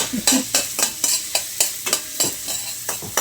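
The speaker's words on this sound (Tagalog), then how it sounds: "maglagay lang po tayo ng konting mantika panggisa natin" Garlic sautés in a little cooking oil with a steady sizzle, punctuated by about a dozen rhythmic scrapes of a utensil stirring the pan, close and loud with no talking.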